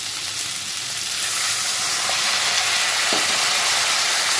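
Potatoes and tomatoes frying in a pan of oil for a green-banana kofta curry, a steady, close hiss of sizzling with a couple of faint clicks, no voices.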